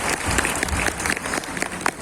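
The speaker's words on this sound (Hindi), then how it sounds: "अपने तालियां बजा देते हैं" Students in an evening IT class applaud together, with fairly quiet, scattered clapping that holds steady throughout and carries a few sharper individual claps.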